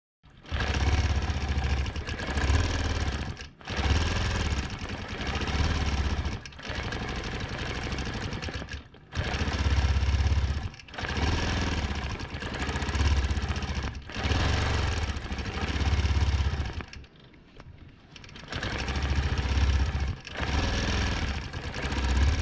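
A sewing machine stitches an over-under loop quilting fill on a 1-inch grid in rapid, even bursts of whirring needle chatter, each a few seconds long and separated by short pauses.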